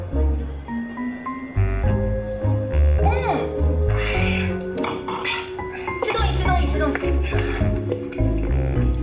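Glasses clink together in a toast at a shared meal, bright chinks rising over several voices talking and background music in a Chinese drama scene.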